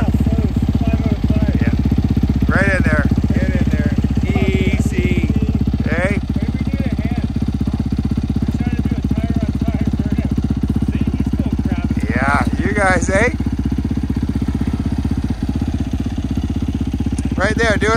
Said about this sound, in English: You can do a burnout.